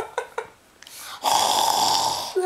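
A voice imitates the snoring of a sleeping plush ocelot in a Minecraft plush show, with two short breathy snorts followed by a long, loud, raspy drawn-out snore that trails into a brief breath.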